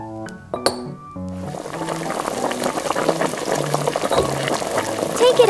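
Water bubbles and boils in a small pot for cooking lobster in a miniature kitchen, a steady simmering hiss broken by sharp clinks of glass and metal utensils near the start.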